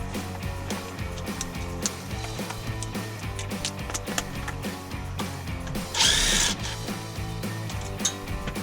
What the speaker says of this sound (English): I like to take the impact,